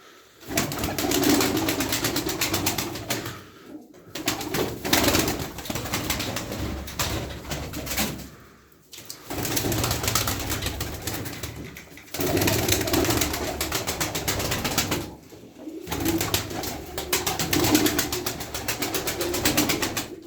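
Pigeons cooing in repeated throaty bursts, about twelve birds close by, with brief quiet gaps between rounds of calls.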